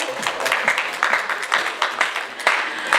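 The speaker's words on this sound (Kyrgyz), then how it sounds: "Кол чабуулар болсун." An audience at a Kyrgyz contest event applauds with dense, continuous clapping, loud and close, with sharper individual claps popping out of the wash.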